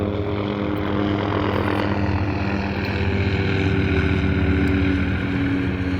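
A helicopter flying overhead makes a steady, loud, droning rotor and engine hum that holds for six seconds with no talking.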